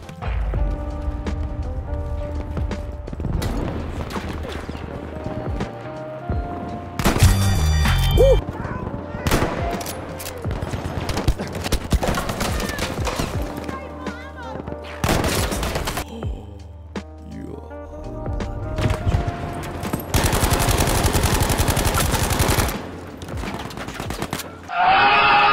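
Loud, dense gunfire in the video game Battlefield V, with sustained automatic bursts, sharp single shots and explosive blasts over a constant din of in-game battle, with no clear talking.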